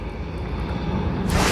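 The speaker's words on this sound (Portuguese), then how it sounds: "Tá aí o avião da Força Aérea desfilando aqui para nós" An Air Force Piper PA-28-180 Cherokee light airplane passing at an airport, its piston engine droning steadily with a broad roar that swells louder near the end.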